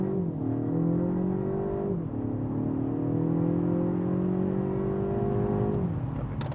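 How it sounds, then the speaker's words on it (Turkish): A Mercedes CLA 220 4MATIC AMG Line Plus with a dual-clutch gearbox launches hard from a standstill, its engine note climbing steadily and then dropping briefly at each upshift, loud and continuous from the cabin with no talk. "Burada bir 0-100 kalkış yapalım."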